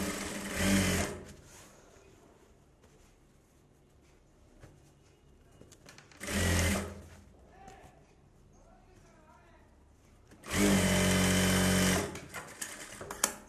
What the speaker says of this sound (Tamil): அதான் அதுக்கப்புறம் நம்ம ஒரு தையல் போட்டு அட்ஜஸ்ட் பண்ணிக்கலாம்